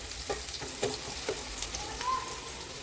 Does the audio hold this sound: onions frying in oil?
yes